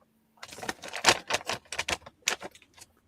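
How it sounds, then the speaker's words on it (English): Foil snack packaging crinkles during eating, making a quick burst of sharp, close crackles and rustles that starts after near silence and runs for about two and a half seconds before it fades. "It's like a foil or packaging."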